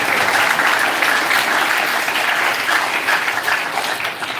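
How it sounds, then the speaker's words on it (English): A camp audience claps loudly together, a thick continuous roar of many hands that holds steady and fades slightly at the end. "loud round of applause."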